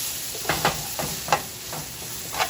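Garlic frying in a pan while being stirred for a prime New York steak sauce, a steady soft sizzle broken by a few scraping stir strokes, close and moderately quiet with no talking.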